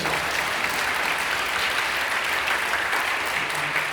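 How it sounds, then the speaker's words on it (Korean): Steady, dense applause from a large church congregation at an Incheon Full Gospel Church prayer meeting, cheering on middle and high school students; continuous and full throughout. "푸른 우리 중고등학생들 사랑합니다. 격려하며 박수해 주시죠."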